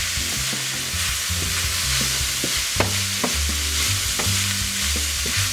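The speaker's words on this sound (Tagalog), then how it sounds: "Gigisa-gisaw lang po natin." Ground beef and corn lumpia filling sautéed in a pan, with steady close sizzling and frying hiss under repeated stirring scrapes and clanks of a utensil against the pan, no talking.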